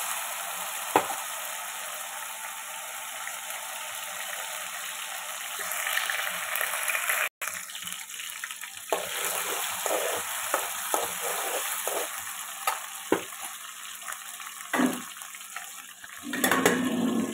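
Potato pieces fry and sizzle in a pan for an aloo curry, with a steady close hiss of oil and irregular scraping knocks as they are stirred. No one speaks.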